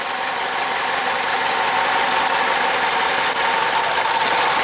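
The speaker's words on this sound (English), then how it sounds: "So it is a cylinder 3 misfire, but it's not a hard, complete lack of contribution" A 2009 Chevy Cobalt engine runs steadily with a cylinder 3 misfire, a constant close-up drone with no breaks or voices.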